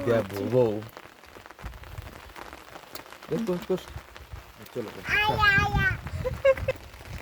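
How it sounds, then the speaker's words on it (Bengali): Heavy rain patters steadily in the background at a hill resort while people talk over it, their voices rising and falling nearby. "প্রচন্ড বৃষ্টি হচ্ছে"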